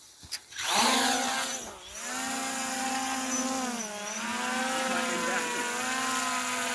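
A small drone's motors spin up for takeoff outdoors in wind, a loud, steady electric whine that dips and climbs in pitch as the rotors surge, then holds close and continuous.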